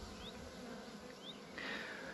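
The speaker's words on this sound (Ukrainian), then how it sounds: "Ну, Рій великий, десь біля 5 кілограмів." A faint, steady buzzing of a large honey bee swarm, about 5 kilograms of bees, hums in the background, with a few brief higher whines of individual bees passing near.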